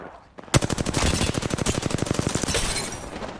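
Rapid automatic gunfire in Apex Legends, a fast, steady burst of loud, close shots lasting about three seconds.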